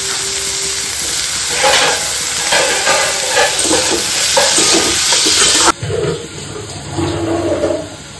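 Chopped vegetables with tomato frying and being stirred in a pan, a loud steady sizzle with scraping strokes throughout, which drops in level and turns patchier near the end.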